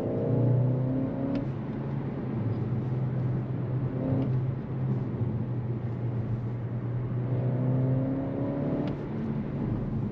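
A 2022 Skoda Octavia RS hybrid estate, 245 hp and 400 Nm, accelerates, heard from inside as a low, steady engine drone with rising whirring tones in two separate pulls. No one speaks.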